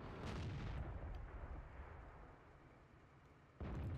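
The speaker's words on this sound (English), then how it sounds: "You can see that T-43 up there is taking shots from somebody on the left on here." A single heavy tank cannon shot booms near the start in World of Tanks, followed by a long fading rumble. A second blast begins sharply near the end over a quiet, low background.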